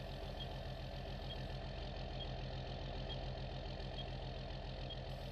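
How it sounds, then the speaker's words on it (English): A tractor-driven grass mower in Farming Simulator 19 runs at a steady drone, a quiet, continuous engine hum with an even mechanical rumble and no change in pace. "And there goes the mower."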